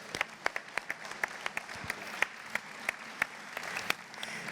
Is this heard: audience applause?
yes